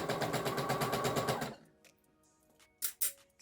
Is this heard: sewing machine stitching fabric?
yes